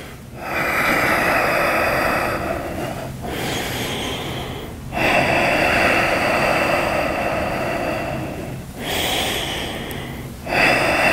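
Deep, steady breathing during a yoga pose in a yoga session for Brazilian jiu-jitsu, with long sustained inhales and exhales broken by a few brief pauses, close and fairly loud, with no talking.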